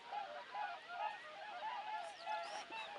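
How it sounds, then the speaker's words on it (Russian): A flock of geese and swans honks in flight, repeated overlapping calls at moderate distance in open country during spring hunting, steady throughout. "Ой, это гуси, это лебеди."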